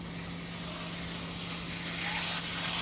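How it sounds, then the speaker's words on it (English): A hose nozzle sprays water in a steady, close hiss, blasting dirt off a cactus, continuous and fairly loud with no talking. "power wash as much of the dirt as possible"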